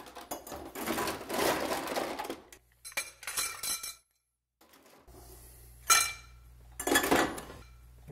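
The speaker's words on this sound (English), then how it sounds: "Add some ice." Ice cubes drop into a cocktail mixing glass in several bursts of clinking and rattling, separated by short quiet gaps. The sounds are close and fairly clear.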